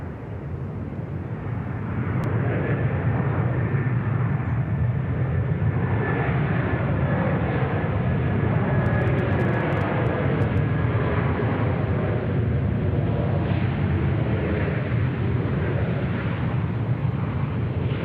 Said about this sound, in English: Qantas 88 there. Coming in from Seoul on runway right.